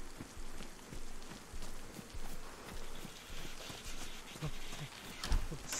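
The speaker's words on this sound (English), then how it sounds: "Still raining, so it almost seems pointless drying off because we're just gonna get wet again." Rain falls in DayZ, a soft continuous patter with scattered drop ticks and a few thumps, fairly faint, in waves throughout, with no talk.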